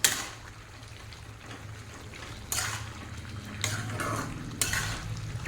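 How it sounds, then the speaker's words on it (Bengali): A spoon stirs bottle gourd, spinach and prawn curry with plenty of gravy in a pan over a high flame: repeated wet scraping strokes and sloshing over a constant low simmering sizzle, close up, with three stronger stirs in the second half. "দিয়ে একবার ভালো করে নাড়িয়ে দেবো।"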